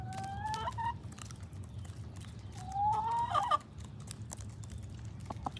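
Chickens cluck and call softly in short bursts while eating, a couple of louder squawky calls rising midway, over a steady low background hum.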